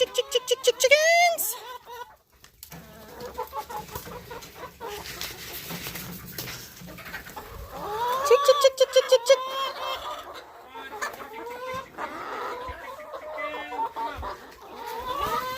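Hens cluck and squawk in bursts, including a run of rapid repeated calls, with people talking intermittently between them nearby.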